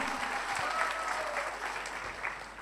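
An audience at a talk on building long-term income gives steady, dense applause, heard at a moderate distance as an even wash of clapping with no voices.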